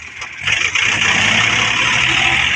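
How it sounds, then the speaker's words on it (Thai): A small Yanmar 39 hp tractor revs hard while stuck in mud, a loud, steady engine roar that rises early and then holds at high revs, with no voices. "โอเร่งเครื่องแล้วนะครับ"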